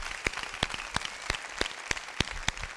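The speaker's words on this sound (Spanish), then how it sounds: "Un aplauso a Dios." Congregation applauding at a Christmas church service, a moderate crowd of hands with distinct individual claps popping out irregularly above the wash, fairly quiet and without voices.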